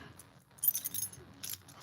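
Keys jangling on a key ring, a couple of quick metallic rattling bursts close to the microphone against a quiet background.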